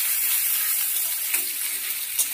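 Raw banana peel fries with salt and turmeric in a wok over a medium gas flame, giving a steady, close hissing sizzle with a couple of brief stirring clicks near the end.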